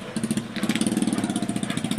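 A Manalang motorcycle with sidecar on a test drive runs loud and close, its engine throbbing in a fast, even pulse without speech.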